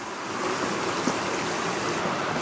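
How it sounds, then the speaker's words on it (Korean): Steady broadband rush of flowing water from a stream beside a walking path at a resort in Gangwon Province, South Korea, continuous and fairly close with no talk over it. "여기는 물소리,"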